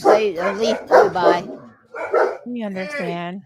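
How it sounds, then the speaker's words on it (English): Dogs at home bark, yip and whine loudly close by in rapid bursts, ending in a drawn-out whimpering howl, as a person talks at the same time. "Sorry for the dogs."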